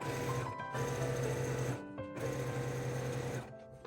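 A sewing machine stitches a tote bag in close, humming bursts, pausing briefly twice as the fabric is turned before each new run of stitching.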